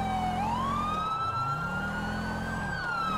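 A police car siren wails in a GTA V LSPDFR chase, its rising and falling tone sweeping over a low engine rumble, loud and steady with no talk.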